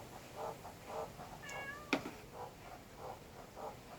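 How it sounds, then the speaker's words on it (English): A cat meows from outdoors while shut out by the front door, a faint, rising cry heard once amid low background noise and distant birds. "You can actually hear Ollie meowing because he went outside out the front and he can't get back in"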